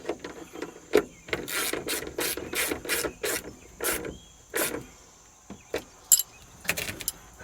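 A wrench works a fitting on an RV in a run of quick metallic clicks and ratcheting bursts, close and fairly loud, with a few scattered clanks toward the end and no talking.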